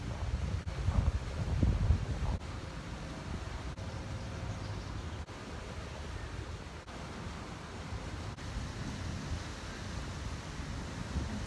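Strong wind buffets a microphone out on a balcony, a continuous rushing roar with low gusting rumbles, louder at first and then settling into a steady blustery hiss.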